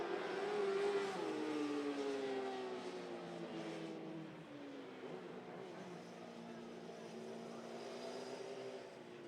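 Mini sprint race cars at a dirt track run with engines droning at a distance, several high-pitched notes rising and falling as the cars circle, a steady moderate roar with no voices.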